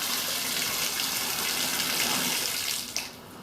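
Water pours steadily from a tap into a slowly draining condo bathtub, a constant close hissing gush that eases off near the end.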